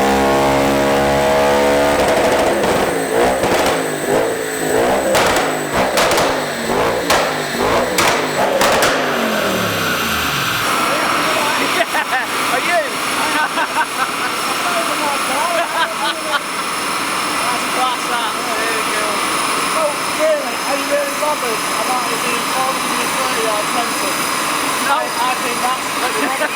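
A tuned, high-mileage Audi B7 RS4 V8 roars loudly and close, revving hard and rising in pitch before settling into a sustained high-pitched drone with crackling exhaust texture.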